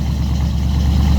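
A Chevy C10 pickup idles through its aftermarket exhaust, a loud, close, deep rumble with a steady low pulsing burble and no voices over it.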